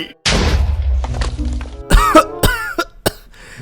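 A hammer breaks at a blacksmith's forge in a video game: a sudden rough burst, then a few dull thuds and ringing, metallic shattering crashes that ring out in short bursts before fading.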